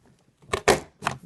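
A paper gift bag is worked on a craft punch board, giving three quick crisp punches, close and clear with short gaps between them, and no talking over them.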